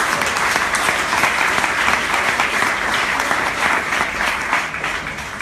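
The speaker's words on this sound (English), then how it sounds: "Please give a big round of applause for David Murray-Hundley" Conference audience greets a speaker with loud, sustained applause, a dense, steady roar of many hands clapping close by that carries on evenly for several seconds.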